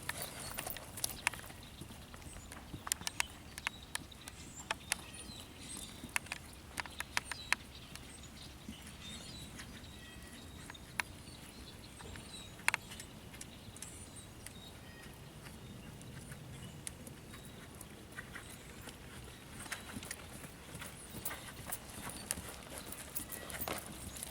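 A ridden dressage horse moving between passage and a collected trot, with faint, fairly regular hoof clip-clops on soft footing at middle distance, plus some birdsong and little or no talk.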